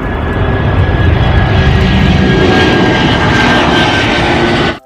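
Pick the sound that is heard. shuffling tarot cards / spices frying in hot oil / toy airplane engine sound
toy airplane engine sound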